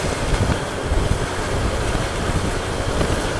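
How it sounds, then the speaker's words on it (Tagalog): Steady, strong wind buffeting the microphone with a continuous low rumble on a winding mountain road in Mariveles, Bataan, unbroken from start to finish and no voices. "Ang lakas ng hangin."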